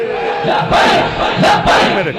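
A crowd chants the religious slogan Labbaik in loud, rhythmic bursts at a gathering in Hafizabad, with several surging shouts rising above a steady background roar.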